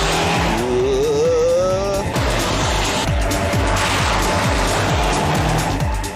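A Saab 9-5 Aero sedan accelerating hard, its engine note rising loud and close with a strained whine and tyre noise, the roar sustained throughout without talk.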